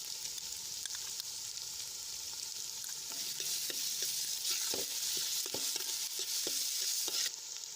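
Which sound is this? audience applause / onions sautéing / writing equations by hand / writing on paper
onions sautéing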